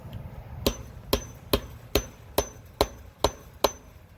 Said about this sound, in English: I'm going to finish nailing it in.